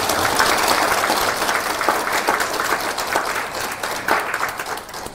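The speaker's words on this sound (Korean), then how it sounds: "박수로 환영하겠습니다." A book concert talk show audience gives a warm round of applause to welcome a guest, a dense spread of many hands clapping steadily and slowly tapering off toward the end.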